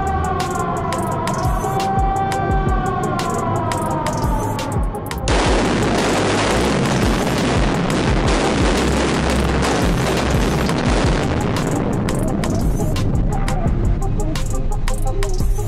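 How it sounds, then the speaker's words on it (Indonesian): A sudden loud broadband mining blast erupts and keeps rumbling for several seconds, a roaring wash that slowly fades, following a quieter stretch of sustained tones. "pemimpin peledakan akan melakukan proses firing"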